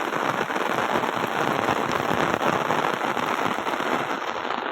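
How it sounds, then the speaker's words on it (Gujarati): Heavy rain pours steadily outdoors in a rural spot with grazing buffaloes and cows, a dense continuous hiss of drops on surfaces, loud and unbroken, with no voices. "તો ફરીથી ભારે વરસાદ ચાલુ થઈ ગયો જોઈ લો।"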